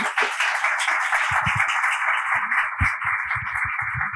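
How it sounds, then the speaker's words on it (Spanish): Audience applause greets a speaker at a science lecture event, heard as scattered, band-limited claps that sound thin and narrow, as if picked up through a phone line or radio feed. "os pido un fuerte aplauso para Marga Sánchez"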